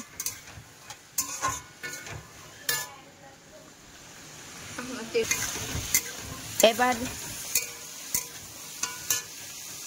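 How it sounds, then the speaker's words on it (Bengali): Jackfruit seeds frying in a pan with cumin and nigella seeds, with intermittent clacks and scrapes of stirring over a soft sizzle that grows busier in the second half. "তারপরে আমি কাঁঠালের বীজগুলো দিয়ে ভালো করে নাড়াচ্ছি, ভালো করে ভেজে নিচ্ছি"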